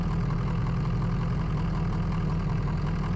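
A video-game dump truck's heavy engine idles in a constant, low rumbling drone with no change in pitch or loudness throughout.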